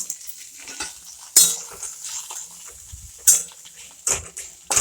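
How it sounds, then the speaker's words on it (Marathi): Quiet frying of a spice mix in oil in a pan, broken by several sharp scrapes and clanks of a spoon against the metal at irregular intervals. "मसाला तळून घेऊ"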